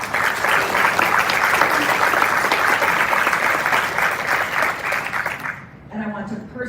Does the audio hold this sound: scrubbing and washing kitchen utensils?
no